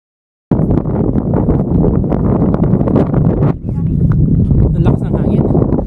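Strong winter wind at Abraham Lake, Canada, buffets the microphone in a loud, continuous roar, with only a brief dip partway through.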